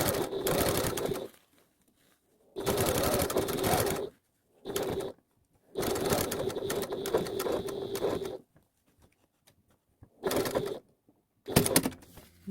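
A sewing machine runs in bursts of rapid, even whirring and needle clatter while stitching a fabric face mask, with each run lasting one to three seconds and separated by quiet pauses. The sound is close and loud.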